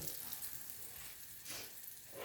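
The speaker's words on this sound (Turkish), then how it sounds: "Şöyle kızdığın yağı koyuyorum." Hot oil poured over lentil patties sizzles and crackles steadily at a soft, close level, with a couple of brief louder hisses; no talk.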